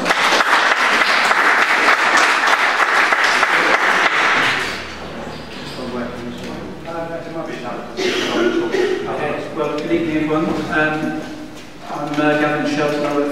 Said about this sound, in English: And everyone wants to give a round of applause.